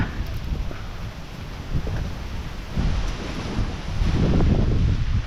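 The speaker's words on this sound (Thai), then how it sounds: "ลมแรงครับผม" Strong wind roars and buffets a microphone in a steady, loud rush that swells toward the end. The setting is outdoors near palm trees during a rain shower.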